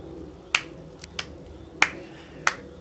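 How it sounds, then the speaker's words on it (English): Slow clap from a person in the room during a League of Legends esports match broadcast (NA Challenger Series), five sharp isolated claps spaced unevenly over a few seconds, fairly close, with no talk over them. "I hope everybody can hear you doing the slow clap."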